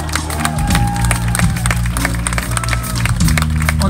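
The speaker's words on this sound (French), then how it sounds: "Applaudis un peu là!" Audience clapping at a Fête de la musique concert in Monthey, a steady dense patter of applause with some cheering, layered over a loud low hum and rumble from the stage sound system.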